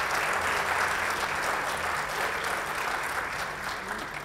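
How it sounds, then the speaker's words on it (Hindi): Sustained applause from an audience, dense and steady clapping filling the room at full volume for several seconds. "तालियां हर वक्त, तालियां"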